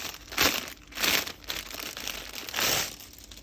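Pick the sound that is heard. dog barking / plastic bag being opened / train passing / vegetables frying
plastic bag being opened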